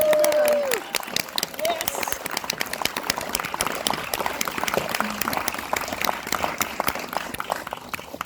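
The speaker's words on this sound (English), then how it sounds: "one more round of applause for Steve" An audience claps for a guest before a movie screening at a science museum, dense applause building after a brief opening tone and continuing steadily, moderately loud and close.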